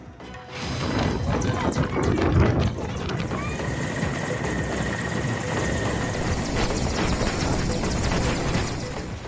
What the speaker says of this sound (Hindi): पश्चिम बंगाल के खानाकुल में बाढ़ बारिश के बीच फंसे लोगों को हेलीकॉप्टर की मदद से निकाला जा रहा है।